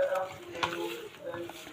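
A spoon stirs a cauliflower batter of flour and milk in a bowl, with soft scraping swirls and a light clink partway through, close and fairly quiet.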